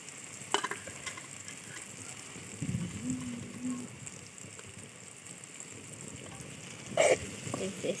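Fried okra is stirred in a pan for a Telugu bhindi fry, with a low steady sizzle, a few soft scraping stirs and a brief clatter near the end, a voice faintly present.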